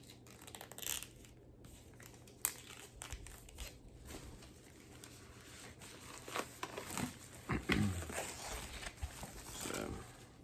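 Soft crinkling and rustling of plastic packaging, intermittent and close, in a quiet room.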